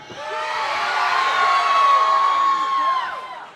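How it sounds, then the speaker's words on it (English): A wrestling arena crowd roars in a sustained ovation, cheering and whooping swelling steadily and holding for several seconds before fading, with a shrill whistle running through the middle. "Listen to the ovation for that."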